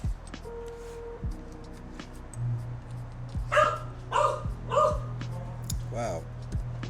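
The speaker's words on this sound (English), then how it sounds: "so my dog's getting barky because he thinks it's my wife" A pet dog gives a few short barks and yips in a bright, repeated burst over a steady low hum indoors, while someone talks and plastic building pieces clatter nearby.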